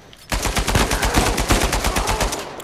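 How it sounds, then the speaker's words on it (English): Gunfire in the Uncharted video game from a musket, heard as a loud, rapid, continuous burst of sharp shots that starts abruptly after a brief quiet moment. "I shot him with my musket"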